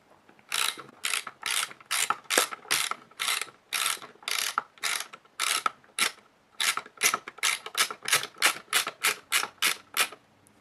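Roll film winding through a Graflex 23 roll film holder for a 4x5 camera onto the take-up spool, a rapid series of close, crisp ratcheting clicks in steady bursts, with no other sound.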